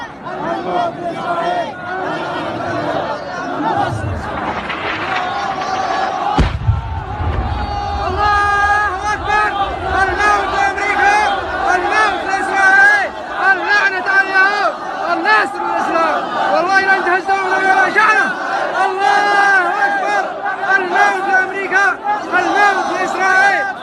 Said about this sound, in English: This is Yemen in the street as the crowd of protesters is getting bombed.